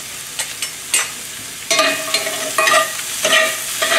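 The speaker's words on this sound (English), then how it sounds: "We just want to stir fry. Make sure all the ginger, garlic, and the thyme flavor get into the mushroom." Mushrooms with ginger, garlic and thyme stir-fry in a pan. Sharp bursts of sizzling come with scraping strokes of the spatula, and louder stretches of frying follow brief quiet gaps, with no talking.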